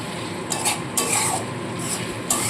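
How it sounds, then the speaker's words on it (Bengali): Spice paste mixed with water goes into a pan of small fish curry with curry leaves and mustard, a soft sizzle running under a few brisk stirring scrapes, close and clear with no talk. "বাটিতে একটু জল নিয়ে নিয়েছি সেই মশলাটা গুলে দিয়ে দিচ্ছি"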